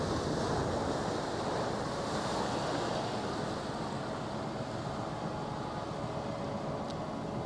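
Sea water churned up by a boat along the coast of Mljet island in Croatia, heard as a broad, continuous rushing wash of surf and wind that stays loud and steady throughout, with no one speaking.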